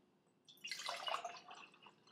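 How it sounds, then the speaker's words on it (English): Water is poured into a cup, a short close splashing stream that starts after a brief quiet and then trails off, with no voices. "I'm gonna put water in each of my cups."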